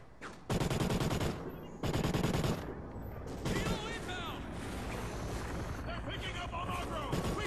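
Loud bursts of automatic gunfire in the Call of Duty: Ghosts campaign, two sharp volleys followed by quieter shots, mixed game noise and someone talking over it.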